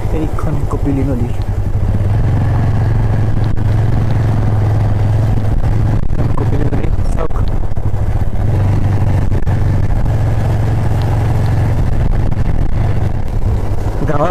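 Motorcycle riding along village roads near the Kapili River in Kampur, Nagaon, its steady engine drone loud and continuous throughout, with speech over the engine noise.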